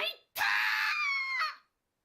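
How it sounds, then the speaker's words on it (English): A woman gives a near-hysterical scream in the video game Grisaia Phantom Trigger, one loud, sustained cry lasting over a second that breaks off abruptly, following a short vocal burst. "With a near hysteric scream, the woman throws down her sword and falls to the floor"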